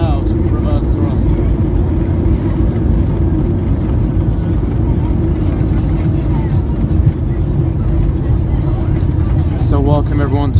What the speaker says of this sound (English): It's a very loud reverse thrust.